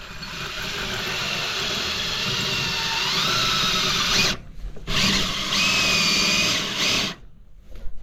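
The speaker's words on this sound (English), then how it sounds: "I'm drilling the hole." A power drill whines steadily under load drilling a hole while clearing a blocked septic drain, pausing briefly twice before starting again, close and loud with rising and falling pitch.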